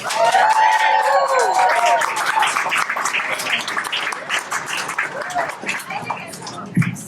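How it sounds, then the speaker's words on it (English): Loud comedy-club audience applause with cheering and whistles fills the room, holding steady and then tapering off slightly. "Make some noise for the very funny Sherry Harper."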